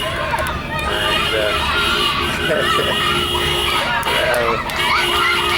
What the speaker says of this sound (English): The loud cheers